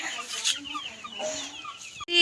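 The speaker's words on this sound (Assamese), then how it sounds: "ওচৰত একদম কুকুৰাবোৰ একদম ৰৈ আছে আৰু মেঞ্চি ভাত খাবলৈ" Chickens cluck and squawk close by in a household yard at mealtime, several short calls overlapping, fairly faint, ending in a sudden louder burst.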